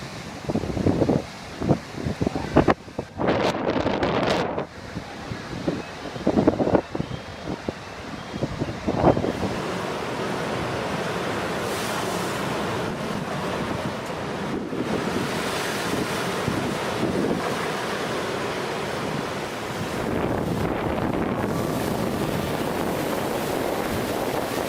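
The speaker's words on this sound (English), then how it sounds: "A monster wave is recorded in Spain in 2014." A monster ocean wave crashes ashore in Spain, heavy surf surging and roaring close by under strong wind buffeting the microphone, with broken bursts early giving way to a sustained, loud wash of churning water.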